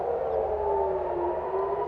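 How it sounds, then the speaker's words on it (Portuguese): A civil defense air raid siren in Tel Aviv or Haifa, Israel, wails in a sustained, slowly falling tone, loud and steady throughout the short stretch. "sirenes soaram nas cidades de Tel Aviv e Haifa"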